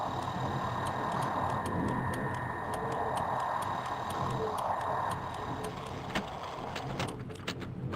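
A clock ticks in the Selenitic Age of the video game Myst, a steady run of sharp, evenly spaced ticks over a constant droning ambient background.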